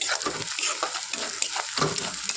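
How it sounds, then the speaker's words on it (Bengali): Onions frying in a pan while being stirred, a loud, steady sizzle close by with scraping strokes of a spoon cutting through it, no voices. "এবার দেখো, পেঁয়াজটা আমার খুব সুন্দর ভাজা ভাজা হয়ে গেছে"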